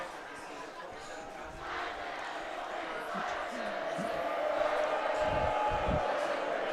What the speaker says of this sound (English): The noise you hear in the background is the Bellarmine cheering section.